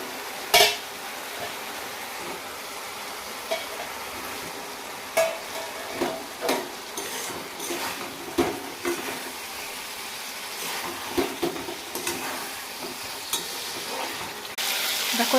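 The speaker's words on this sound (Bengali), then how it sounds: "দেখো এরপর তেল ছাড়তে শুরু করেছে, তার মানে আমার মশলা আলু ভালো করে কষানো হয়ে গেছে" Potatoes fry in oil with a spice paste, a steady sizzle running throughout with occasional scraping and stirring knocks, close and without talk.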